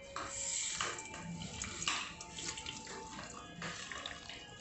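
Three-quarter cup of sago pearls rinsed in water in a tray, running tap water splashing and swirling with light knocks of the container, close and steady, no talking.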